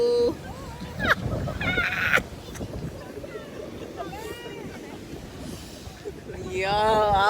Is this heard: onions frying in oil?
no